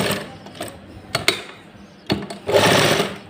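A sewing machine stitches lining fabric into a salwar, running in close, uneven bursts of rapid mechanical whirring and clatter with brief pauses between runs.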